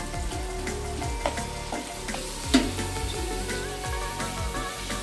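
Steady sizzling of ginger and garlic frying in a pan, with occasional scraping stir sounds, close and moderately loud with no talking.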